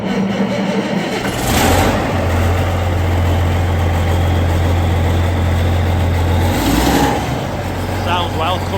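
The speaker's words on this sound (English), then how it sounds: "Sounds well, Cummins engine, high-track turbo." A large Cummins turbocharged diesel engine idles with a steady, deep, unbroken drone that holds close and loud throughout, with faint background noise around it.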